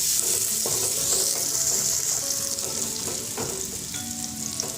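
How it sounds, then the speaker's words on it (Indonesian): Shallots sauté in a hot pan for an Indonesian stir-fried anchovy and green chili dish, making a steady bright sizzle with occasional stirring scrapes and clinks throughout. "Masukkan bawang merah, ditumis sampai bawang layu dan harum."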